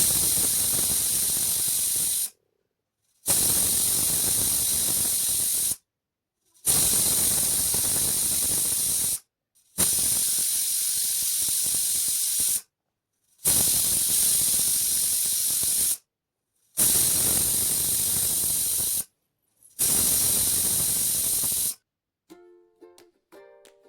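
Pressure cooker cooking vegetable khichdi blasts a loud, hissing steam whistle about seven times in a steady rhythm, each burst lasting a couple of seconds with short silent gaps, followed by faint clinking at the end.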